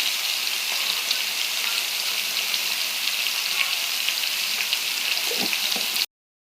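Eggplant pieces with salt and turmeric cook in a pan, giving a continuous close, hissing sizzle that stops abruptly at the end.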